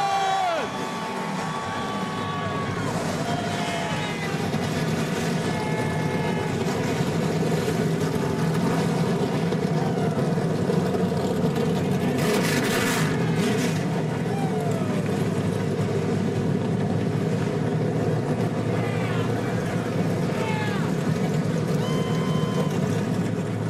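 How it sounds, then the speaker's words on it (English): Several NASCAR Camping World Truck Series trucks fire up and rev their engines at Eldora Speedway's dirt track for the Mudsummer Classic, making a dense, steady roar with a crowd behind it throughout. "And the engines have fired"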